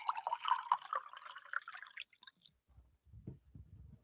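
Tap water pours into a glass, filling with a bright trickling splash for about two seconds, then stops; a few soft low clunks follow close by, with no talking.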